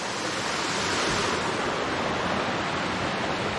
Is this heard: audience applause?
no